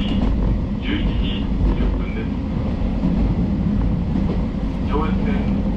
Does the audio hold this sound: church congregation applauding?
no